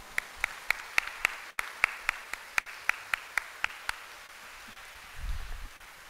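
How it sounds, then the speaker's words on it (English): Sparse, distinct hand claps ring out one after another at a Grade 6 closing ceremony, a thin scattering of applause for teachers and parents that fades, followed by a low rumble. "Students, let's please give our teachers and our parents a big round of applause."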